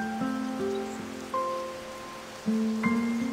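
Steady rainfall in the Tower of Fantasy video game, a continuous soft patter heard behind sustained musical tones.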